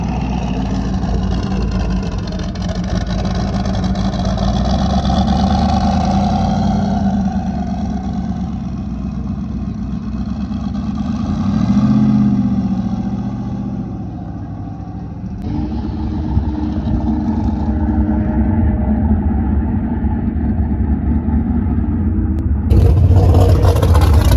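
A stock 4.8 LS engine in a 1997 truck roars loudly and steadily through a drag race pass, its tone shifting as it pulls, with a brief swell midway and a change near the end.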